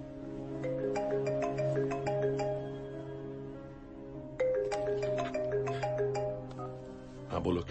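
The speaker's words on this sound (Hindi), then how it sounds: "आप फोन क्यों नहीं उठा रहे?" A melodic phone ringtone plays continuously, repeating its chime pattern twice, fairly clear and close.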